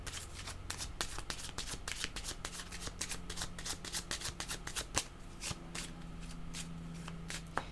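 Tarot cards being shuffled by hand up close, a steady run of crisp riffling flicks and slaps repeating for several seconds with no talk.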